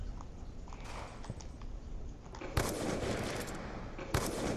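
Gunfire in the video game Black Ops 2, two sharp, loud shots a couple of seconds apart, each followed by a burst of noise, over a constant rumbling game background.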